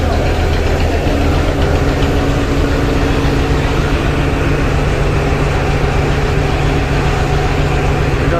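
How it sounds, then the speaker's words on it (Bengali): The engine of the Miraj 6 passenger launch, a small river vessel, heard from near the engine room as a loud, steady droning rumble with a constant knocking throb and no pauses. "হচ্ছে মিরাজ ছয়ের ইঞ্জিন"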